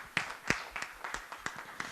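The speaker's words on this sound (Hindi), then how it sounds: "एक बार इनके लिए जोरदार तालियां हो जाए।" Scattered applause from the audience at a Rajasthani folk-song music show, greeting the top ten semifinalists: a handful of separate, fairly loud claps at an uneven pace, with quiet gaps between them.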